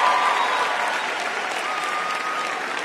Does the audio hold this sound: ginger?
no